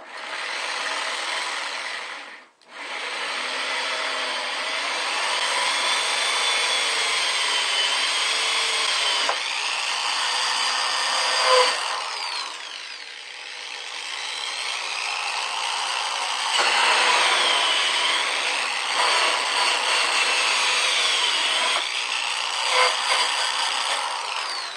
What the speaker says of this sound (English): all the holes are drilled now